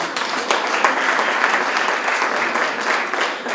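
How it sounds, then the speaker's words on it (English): An award ceremony audience at the DL Awards 2019 gives a steady round of applause, a dense wash of many hands clapping at moderate loudness, continuous and unbroken for a few seconds. "So let's give a round of applause to him."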